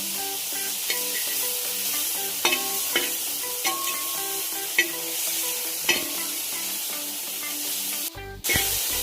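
Tomatoes and chillies sautéing in a pan for chicken curry, a steady loud sizzle with repeated stirring scrapes and clinks, then a brief sharp clatter near the end.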